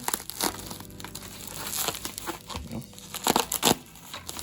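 Plastic packaging crinkles and crunches as scissors snip through it in short bursts, with several louder cuts near the end.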